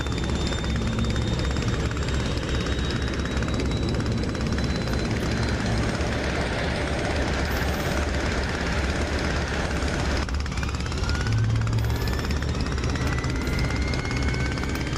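Sopwith Camel WWI biplane with its rotary propeller engine, flown in the DCS flight simulator: a steady, loud, dense engine drone with propeller thrum runs unbroken throughout, with no talk.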